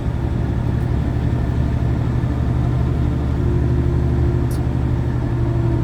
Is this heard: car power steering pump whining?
yes